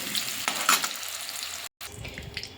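Potatoes frying in oil for a Bengali meat and onion curry, giving a steady hiss and crackle with a few stronger bursts of stirring. A brief silent gap falls near the end, then the low sizzle returns.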